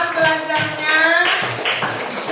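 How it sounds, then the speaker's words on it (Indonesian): A class of young children claps together in a classroom lesson, quick close hand taps mixed with lively children's voices calling out over the applause. "Kalau begitu tepuk tangan yang meriah untuk kita semua hari ini."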